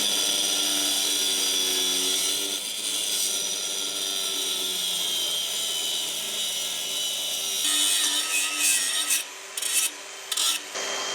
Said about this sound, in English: So take our angle grinder, and we're gonna chop those bad boys off.